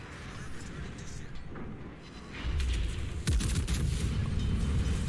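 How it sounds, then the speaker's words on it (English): A battleship's secondary guns firing in World of Warships, a rumbling mass of booms that swells and grows heavier partway through, with a voice talking over the din. "Secondary is opening fire on both warships, the Montana and also the Schlieffen"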